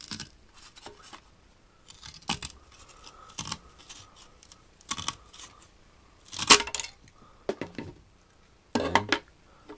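Snipping cuts through the gold-plated edge connector fingers of old RAM and ISA-bus circuit cards, sharp close clicks and crunches coming in irregular separate bursts with quiet gaps between them.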